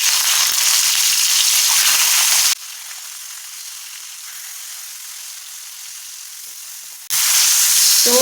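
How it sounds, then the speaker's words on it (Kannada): Marinated brinjal slices frying in hot oil on a tawa, a loud close sizzle that drops abruptly to a faint hiss for several seconds and then surges back just as loud, with no talk. "ಎಣ್ಣೆ ಬಿಸಿ ಆದಮೇಲೆ ನಾವೇನು ಮ್ಯಾರಿನೇಟ್ ಮಾಡ್ಕೊಂಡಿದ್ದು ಬದ್ನಿಕಾಯಿ ಇದ್ವಲ್ಲ ಅವನ್ನ ಇದ್ರೊಳಗೆ ಫ್ರೈ ಮಾಡೋಕ್ಕೆ ಇಡೋಣಂತ"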